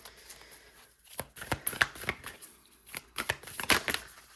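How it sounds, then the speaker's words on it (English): Oracle cards being shuffled by hand, with bursts of crisp riffling and flicking separated by brief pauses, fairly close and moderately loud, with no voices. "I'm going to keep shuffling."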